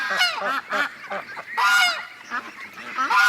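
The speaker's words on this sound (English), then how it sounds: "I got too many ducks for that little pen now" Several loud, nasal honking calls from a crowded group of ducks penned in a barn, coming close together in bursts with brief gaps between them.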